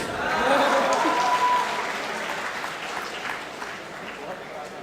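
An audience applauds a poet on stage, with clapping swelling loudly and then fading to a softer patter while a voice speaks over it.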